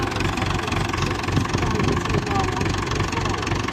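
A David Brown 996 tractor engine idles at a low, steady tick-over with a continuous knocking diesel rumble and slight throttle, heard up close under occasional talk.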